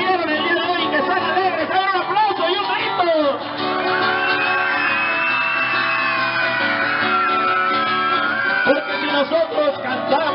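A group of children cheer and shout together, loud and excited, their voices overlapping in a sustained burst of whoops and yells.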